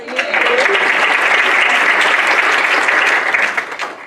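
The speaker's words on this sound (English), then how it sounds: "if you want to stand up real quick so we can applaud" Audience applause at an award ceremony, loud steady clapping from a crowd that holds evenly throughout and tapers slightly at the end.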